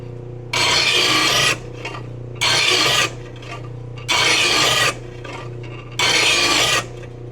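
Steel lawn mower blade being sharpened with a hand file, four long rasping strokes at an even, unhurried rhythm with short pauses between, close and loud with no talking.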